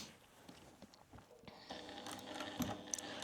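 A sewing machine runs slowly, stitching closed a boxy fabric makeup bag with a zipper; a quiet, steady mechanical whir that starts faint and grows louder and fuller partway through, with no talking.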